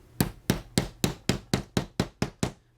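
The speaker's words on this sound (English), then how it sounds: "I will just squish this thing straight flat with my vintage ball peen hammer here" A vintage ball peen hammer strikes a leather sheath to flatten it, giving ten evenly spaced, fairly quick thuds with sharp attacks and short decays, quiet and close, with no talking.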